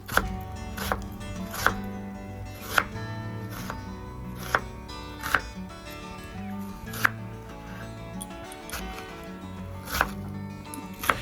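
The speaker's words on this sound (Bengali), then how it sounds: "পেঁয়াজ আমার ছোট ছোটো একদম টুকরো করে কাটা হয়ে গেছে" Onion chopped into small pieces with a knife on a board, sharp regular knocks about once a second over a quiet background, close and alone.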